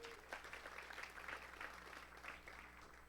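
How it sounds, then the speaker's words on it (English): An audience claps for a charity that helps local families fighting childhood cancer, a quiet, somewhat distant patter of applause that lasts a few seconds with a low hum underneath. "Can we get a quick round of applause for that?"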